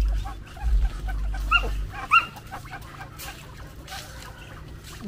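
Dog at a family house giving a few short, fairly quiet barks and whimpers amid faint clucking fowl and low background rumble.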